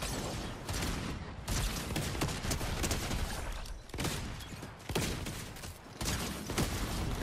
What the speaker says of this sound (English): I'm gonna shoot him in the head.